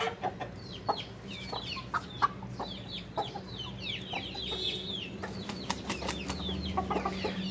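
Aseel hens cluck repeatedly in a busy farmyard, with overlapping chirps and occasional louder squawks against a low steady background hum.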